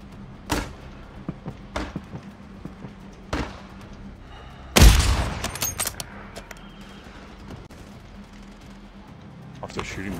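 Gunfire in Call of Duty Warzone in Urzikstan rings out behind the squad as scattered sharp shots, one much louder blast near the middle, with players talking over the action.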